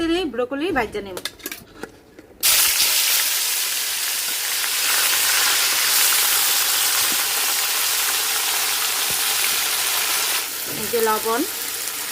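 Broccoli frying in hot oil in a Bengali home kitchen, a loud steady sizzle that bursts in suddenly and hisses on for several seconds, with a voice talking briefly before it starts and again near the end.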